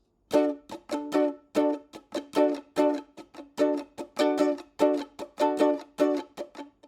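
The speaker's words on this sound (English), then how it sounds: "So you can hear I'm strumming the strings, but I'm muting those." Guitar strings are strummed in a rhythmic pattern, alternating fuller ringing strums with short percussive muted chucks, close and clear with no voices.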